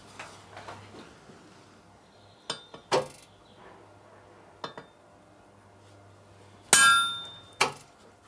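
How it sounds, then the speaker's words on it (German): Hammer strikes stamping a logo into the soft steel of a kitchen knife blade in a workshop, a few sharp metallic clinks and one louder ringing clang, spaced irregularly over quiet background. "Für die Prägung des Logos war der Stahl noch weich genug."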